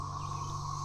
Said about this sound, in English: That is what is making all the noise and what is feeding the bass and the bluegills and everything. That's a cicada.